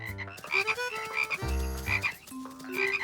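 Cartoon frogs croak in a run of bouncy, tonal calls that overlap with light musical tones, several croaks in quick succession and fairly close.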